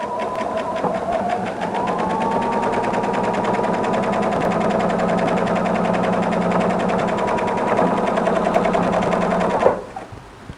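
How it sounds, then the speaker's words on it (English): A sewing machine running a straight stitch through rag quilt pieces, a steady rapid mechanical chatter of the needle going for about nine and a half seconds before stopping abruptly, close and clear with no talk. "set your machine for a straight stitch with a standard length, and go ahead and sew"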